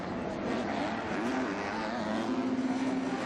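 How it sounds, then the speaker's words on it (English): A motocross bike engine screams during an MX2 race at the 2020 MXGP of Great Britain, with a sharp panic rev rising over a steady, close, loud drone of racing engines. "big panic rev there"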